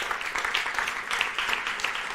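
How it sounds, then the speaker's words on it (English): Scattered applause from a small audience at the close of a presentation during a closing ceremony, steady and moderately faint, lasting about two seconds with no one speaking. "Yes, applause, please"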